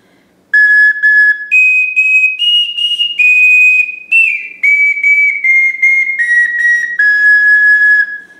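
A clear, high-pitched wind instrument plays a sequence of sustained notes, rising then stepping gradually down, bright and shrill, with no voices.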